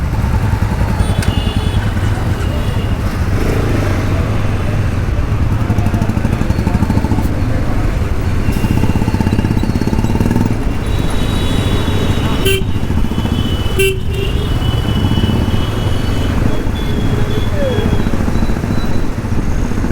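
Motorcycle engines rumble and rev nearby as riders set off, with honking horns and clattering traffic all around, and voices faintly audible in the busy street.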